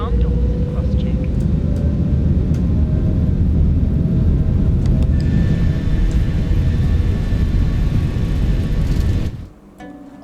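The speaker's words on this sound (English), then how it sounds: "I just want to show you how this sounds when you spool up the engines." Airplane engines in Microsoft Flight Simulator 2024 spool up to full power as a loud, dense, steady roar with a rising whine at the start, then cut off abruptly near the end.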